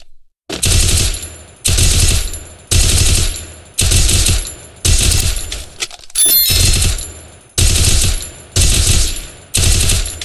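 Bursts of automatic gunfire in the Free Fire game's training ground, played through BlueStacks 5. About eight loud, evenly spaced rapid-fire volleys of a second or so each, with short silent gaps between them and no talking.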